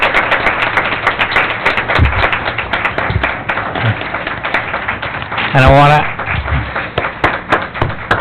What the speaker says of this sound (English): So if I could ask everyone for a round of applause of the individuals of the crossing guards